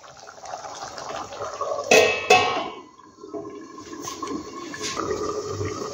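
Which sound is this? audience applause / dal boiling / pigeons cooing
dal boiling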